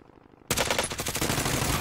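Loud, dense automatic gunfire from Call of Duty: Warzone bursts in abruptly after a quiet half-second and keeps up as a continuous rattling barrage to the end.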